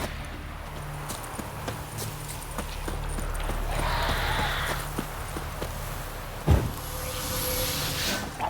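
The horse Roach galloping in The Witcher 3 video game: steady, light hoof clip-clops repeat at a quick rhythm under a constant low rumble of ambience, moderately near, with a brief sharp thump near the end.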